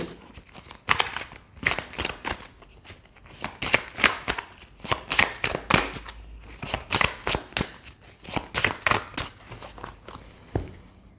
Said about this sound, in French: je vais prendre d'autres cartes du Mariel Tarot